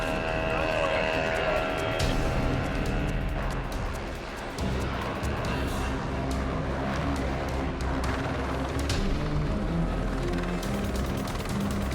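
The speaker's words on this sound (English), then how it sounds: "The helicopter quickly shuttles Mike and his crew to a safe zone not far away." Steady, loud rotor roar of a helicopter in flight, with a dense low throb continuing throughout and faint voices underneath.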